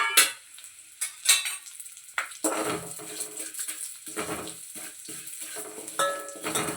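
Vermicelli (semiya) is stirred and fried in a pan for sago payasam: intermittent metal scrapes and clinks of a spoon against the pan over a light sizzle, in uneven bursts, no talk.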